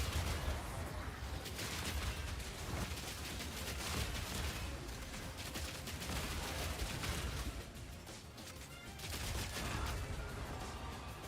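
Turrets firing steadily in Path of Exile 2, a dense, continuous barrage of rapid shots and impacts filling the whole stretch with no pauses, heard at moderate volume without voices.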